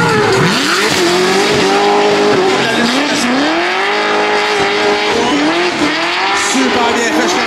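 A Nissan Skyline R32 with a V8 swap on a drift qualifying lap at a Ste-Croix, Québec pro drift event: loud, close engine howl with rising and falling revs and tire squeal throughout, an announcer talking over it.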